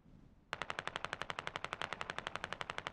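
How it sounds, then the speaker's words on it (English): Sustained automatic machine gun fire in the video game Squad, a rapid even stream of around twenty-five sharp shots in under three seconds, close and loud after a brief quiet start. "looks like we got some shots going out here"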